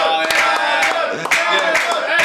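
Podcast audience clapping and cheering for Carlito, a dense burst of applause with shouts, lively and fairly loud, mixed with a few voices.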